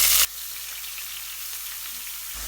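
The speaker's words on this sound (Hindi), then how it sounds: "अब हमने अनियन को फ्राई कर लेना।" Chopped onions sizzle in a hot pan for a Rajasthani whole-onion curry, a steady broadband frying hiss that runs throughout, with a brief louder burst at the very start.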